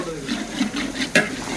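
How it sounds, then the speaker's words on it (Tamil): A spoon stirs chicken biryani masala in a large pot, soft rhythmic scraping and squelching strokes with light sizzle underneath and one sharper clink near the end, close by. "இப்போது கறியை தவிர நல்லா மிக்ஸ் பண்ணுங்கள்."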